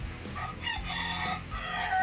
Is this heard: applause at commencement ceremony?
no